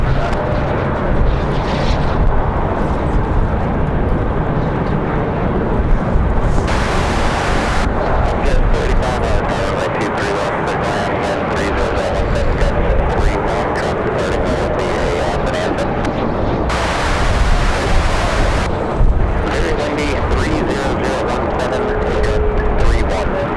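Strong wind gusts at Raleigh-Durham International Airport make a loud, steady roar of broadband rushing noise. It surges and holds without break for the whole stretch.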